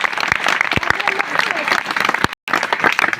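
A crowd at a Shivaji Jayanti celebration claps loudly and continuously in a dense burst of applause, briefly cut off near the end before resuming, with voices mixed in.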